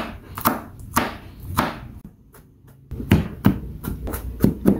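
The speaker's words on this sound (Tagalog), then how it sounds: "Saka natin balatan bago hiwain." A knife chopping peeled garlic into small pieces on a board, a burst of quick close taps, a short pause, then another run of sharp chops, loud and alone.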